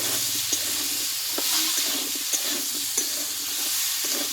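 Pumpkin fries with turmeric powder and salt in a pan, giving a steady close sizzle broken by soft stirring scrapes and a few light taps, with no voices.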